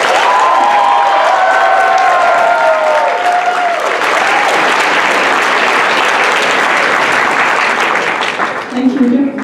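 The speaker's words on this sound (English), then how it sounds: "please give a round of applause for Ngo Nguyen Anh Yu" Loud, sustained audience applause at a conference opening ceremony, dense clapping filling the room from start to finish with some cheering tones early on, easing slightly near the end.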